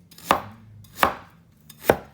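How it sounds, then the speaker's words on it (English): Ginger being chopped with a knife on a cutting board: three sharp, evenly spaced chops about 0.7 seconds apart, close and crisp, with quiet gaps between and no talking. "we'll chop our ginger up."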